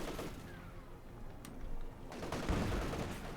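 Battlefield combat in the video game Company of Heroes 2: rapid gunfire bursts and heavy artillery blasts crackle and thump in quick succession, dense and close.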